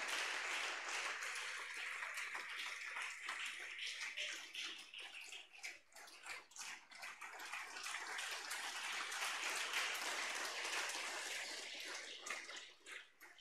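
A church congregation claps and cheers loudly for a pastor walking up during a service. The dense, continuous applause rises and dips slightly, with no clear voices over it.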